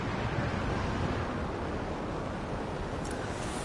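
Continuous rushing water from a waterfall in the video game Anthem, a steady broadband roar heard alone and close, with no voices.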